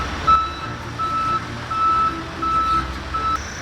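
A propane delivery truck reverses outdoors, its high, evenly spaced backup beeps repeating over a low diesel engine rumble, loud and fairly near.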